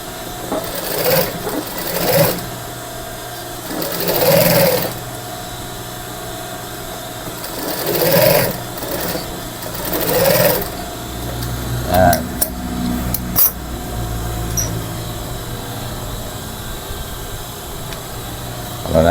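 A sewing machine stitches a polo shirt collar in several whirring bursts of rapid needle rhythm, close and loud, with pauses and small clicks between runs.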